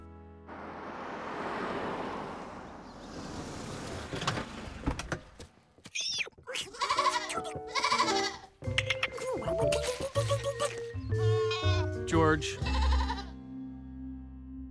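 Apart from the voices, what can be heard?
goats bleating in a cartoon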